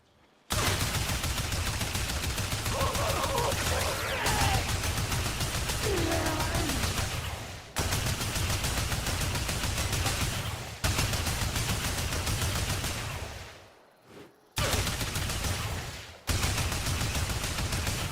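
Sustained automatic gunfire in a video game, fired in long continuous bursts to test weapon recoil, loud and close, with brief pauses between strings of shots and no talk over it.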